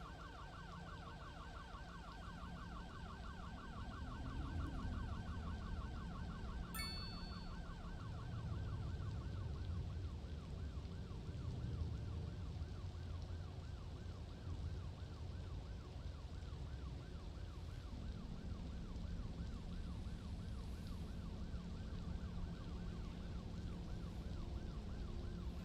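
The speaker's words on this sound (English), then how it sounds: "The ambulance can't get through now." An ambulance siren wails continuously in steady repeating cycles, loud and sustained over rumbling road traffic, with no talking.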